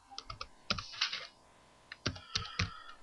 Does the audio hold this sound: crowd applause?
no